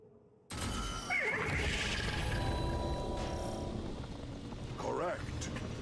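Celestial Horse neighing in a game-show style challenge, two loud wavering whinnies a few seconds apart over a rumbling, clattering mechanical background.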